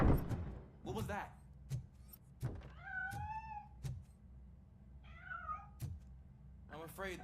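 A cat in the video game RoboCop Rogue City gives two distinct rising meows in the middle of a quiet scene, surrounded by scattered thunks and clicks from the game.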